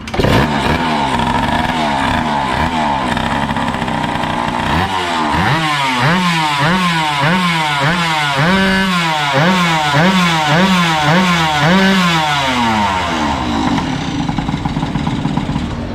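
A cold Honda Dio 50 scooter engine buzzes loudly and is revved repeatedly in a quick series of rising and falling blips, then settles back toward a raspy idle, close up with no talking.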